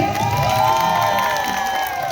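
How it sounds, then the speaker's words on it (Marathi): Crowd cheering and clapping at a live home-quiz stage show in Liber Nagar, a dense, sustained roar of voices and applause held at steady loudness throughout. "सगळ्यांनी टाळ्या वाजवायचे."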